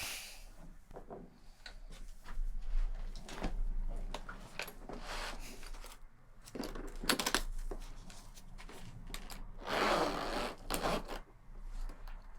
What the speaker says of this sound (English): The zipper's made of metal.